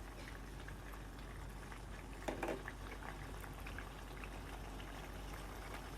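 Fante Fante stew, a Ghanaian fisherman's stew with tilapia, boiling in a pot: a steady low bubbling simmer throughout, with a brief louder burst of bubbling partway through.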